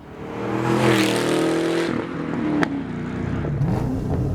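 A Camaro ZL1 with a muffler delete roars with a loud, raspy exhaust as the engine revs up and falls off, followed by a sharp pop and lingering rumble nearby.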